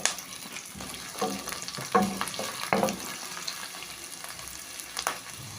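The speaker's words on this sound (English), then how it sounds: "When the oil heats up, I'll add in my chopped onions." Chopped onions fry in hot palm oil with a steady close sizzle, broken by a few louder crackles and stirring scrapes, and no voices.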